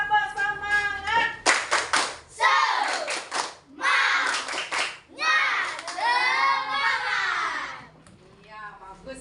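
A classroom of Indonesian schoolchildren performs a rhythmic clapping chant, with bursts of synchronized claps and shouted chant words in several loud phrases, then quieter chatter at the end.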